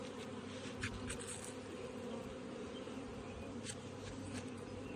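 Honey bees buzz steadily in an open beehive, a dense close drone with occasional individual bees flying past the microphone; faint and continuous, with no talking.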